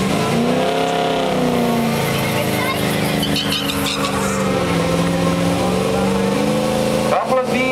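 Drag race cars on nitrous, V8s including a Fox body Mustang, running at the strip: loud engine roar that rises and shifts pitch as the cars accelerate, heard under a person talking.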